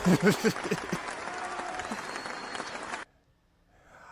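A brief burst of audience applause rises under a voice in a podcast-style studio setting, carrying steadily for about three seconds before cutting off abruptly into near silence.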